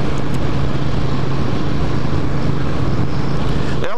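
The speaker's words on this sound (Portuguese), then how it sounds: "botei dois escapes de carro nela, escape JK, ela ficou com ronquinho gostoso" An old custom motorcycle fitted with two JK car exhaust pipes idles with a steady, mellow low rumble, not very loud, continuous for the whole stretch with a slight shift near the end.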